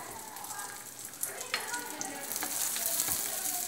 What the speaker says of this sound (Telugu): అందులో ఈ కిస్మిస్ కూడా కొంచెం వేయించుకున్నాను.